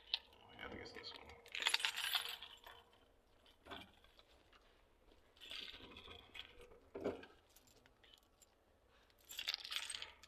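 A set of keys jingles at a door in several separate metallic bursts of rattling and clinking, close by, with quieter pauses between them.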